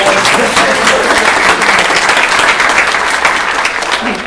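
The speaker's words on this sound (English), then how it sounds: "Give security first a round of applause, guys." Loud, close applause from the audience at a real estate meeting, honoring security staff, with thick continuous clapping and no let-up across the whole stretch.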